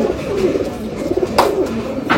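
A desi pigeon held in the hand coos softly at close range, a low murmuring call with a couple of brief louder bursts over two seconds.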